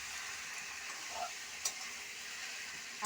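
Curry cooking in a pan on a home stove, made with store-bought masalas such as garam masala, cumin and coriander: a steady soft sizzle and frying hiss runs throughout, with a few light stirring scrapes and one small clink.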